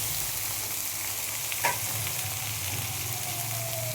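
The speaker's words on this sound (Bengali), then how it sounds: "দেখো এইটা এবার ভালোভাবে ভেজে নেব।" Onion and tomato fry in oil in a wok, giving a continuous close sizzle with light crackle throughout and one brief scrape of stirring midway. There is no talking.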